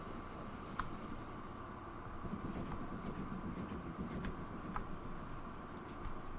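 A freight train runs in the Transport Fever 2 video game, giving a faint, steady rolling rumble with scattered light clicks and ticks throughout.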